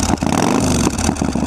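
A motorcycle with a CP2 parallel-twin engine and an Akrapovic full exhaust revs in a brief, loud, close burst with a rough, pulsing rumble.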